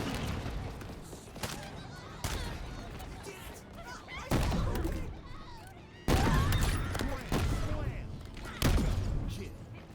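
Rocket launcher blasts in Halo Infinite boom at irregular intervals, each heavy thump followed by explosions and scattered gunfire, with game voices and speech mixed in.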